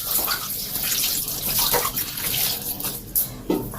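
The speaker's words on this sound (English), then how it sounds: "I will wash my hand while it's low." Running tap water splashing over hands being washed with soap at a sink, a steady close wash with a few sharper splashes near the end.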